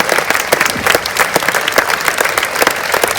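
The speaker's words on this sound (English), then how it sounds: "Could we please have a round of applause for Hannah, Ruth, Ben, Alyssa, Zoe, Simon, T" Loud, dense crowd applause at an outdoor memorial rally, many hands clapping steadily and close by for a few seconds with no talking over it.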